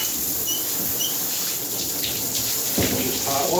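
Hot tap water runs steadily into a tub with a hissing, splashing rush, and brief clattering noises near the end.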